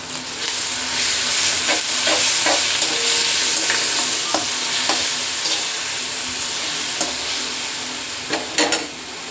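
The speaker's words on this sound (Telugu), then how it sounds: "మనం మామిడికాయ తురుము వేసుకునేస్తే వేగాలి, కాసేపు పచ్చి వాసన పోయే వరకు వేగాలి" Grated raw mango with curry leaves fries in a pan for mango rice, giving a loud, steady hiss and sizzle broken by intermittent stirring scrapes and clicks near the end, close by with no talking.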